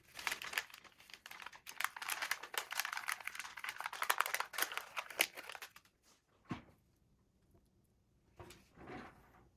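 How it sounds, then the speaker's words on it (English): Thin blue paper is peeled from a birthday candle cake card, giving dense crinkling and soft tearing rustles for several seconds, then a pause and a few quieter scrapes. "It's a little delicate, so be careful as you peel it off here."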